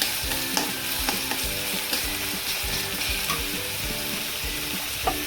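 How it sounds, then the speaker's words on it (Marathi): Mustard seeds, cumin, garlic and ginger fry in hot oil for egg bhurji, giving a close, busy sizzle with repeated sharp pops and crackles throughout. "हे मोहरी थोडीशी मी टाकली, त्यातच हे थोडंसं लसूण आणि थोडीशी अद्रक. तर हे पण आपल्याला फ्राय करून घ्यायचे"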